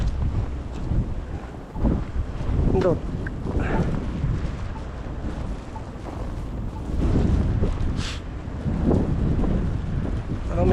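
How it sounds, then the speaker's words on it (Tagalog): Strong wind with blowing snow buffeting the microphone in Canada, loud rumbling gusts that rise and fall continuously, with someone talking over it. "Medyo malakas talaga ang hangin mga par. May kasamang snow."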